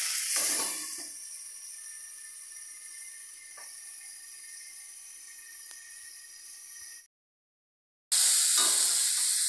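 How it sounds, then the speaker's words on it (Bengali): Potatoes frying in a pan for a fish curry with aubergine give a steady sizzling hiss that begins louder and settles to an even level. It drops out briefly and then returns strongly. "আলুটা আর একটু কষাই হোক"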